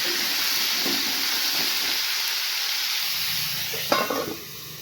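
Raw banana and potato pieces with salt and turmeric fry in a pan with a steady, close hissing sizzle, broken near the end by a brief clatter of stirring.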